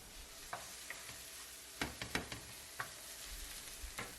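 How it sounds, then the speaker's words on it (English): Onion sautéing in olive oil in a pan, a soft steady sizzle running throughout with scattered light clicks and stirring taps, mostly bunched in the middle, close and fairly quiet with no talking. "First I started by sauteing one big onion in olive oil, added some salt to help soften"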